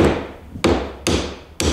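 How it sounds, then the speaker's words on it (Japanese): A steel hammer taps a hand-cut wooden tenon into its mortise on a stool: three sharp, evenly spaced knocks, each ringing briefly and then fading, close and clear with no talking. "金槌の重みだけで叩いて入るぐらいというのが"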